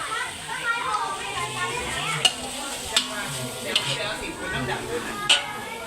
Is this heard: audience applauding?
no